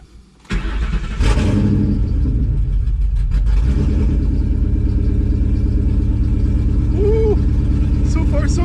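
Nitrous-injected New Edge Mustang engine cranking and catching, then settling into a loud, steady idle around 1,000 RPM, with a voice speaking briefly over the rumble.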